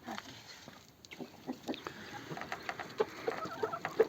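Chickens clucking nearby while being fed, in a series of short, irregular calls that grow busier toward the end, over faint background rustling.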